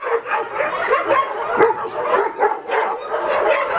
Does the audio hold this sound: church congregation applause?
no